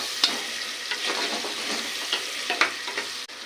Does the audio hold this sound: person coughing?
no